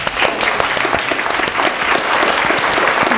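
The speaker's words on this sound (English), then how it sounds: "will you give them a round of applause?" A room of attendees at a 2018 Washington County candidates forum gives a round of applause. It is loud and close, with a thick, continuous stream of hand claps throughout.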